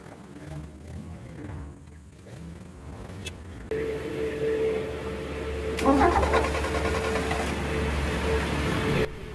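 Carburetor-type 1.3 liter car engine idling at about 900 rpm while fed by a 60V hydrogen generator, a steady mid-pitched hum that grows louder and brighter partway through, with a brief rattle near the middle.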